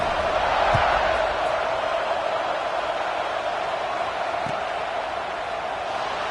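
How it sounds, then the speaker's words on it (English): A big stadium crowd at a Tennessee vs LSU football game sends up a steady, loud, unbroken roar across the whole stretch, with only faint swells and no clear speech on top. "this crowd is feeling themselves after that last drive"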